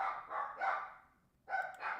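Dogs bark in bursts, two clustered volleys separated by a short lull, moderately close and loud with no talk over them.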